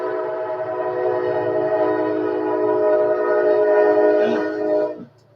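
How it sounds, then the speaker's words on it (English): A Kansas City Southern Railroad train sounds a long, steady horn blast that holds loud and close for several seconds before cutting off, with a low rumble of rail traffic underneath. "Kansas City Southern Railroad."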